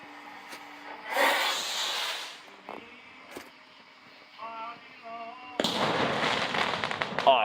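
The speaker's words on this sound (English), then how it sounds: "This firework was one big wall." Fireworks go off in several bursts, with loud crackling, hissing explosions, some short whistling tones between them, and a final sustained volley of crackles.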